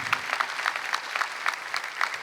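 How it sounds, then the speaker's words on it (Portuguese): A church congregation claps together in a quick, even rhythm, a continuous spread of crisp hand claps at moderate distance with no speech over it. "Vamos aplaudir a misericórdia que vai queimando"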